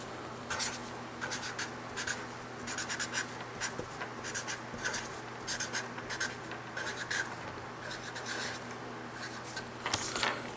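An email address written by hand with a pen on paper, a quiet close scratching in short bursts of strokes with brief pauses between words, no voices.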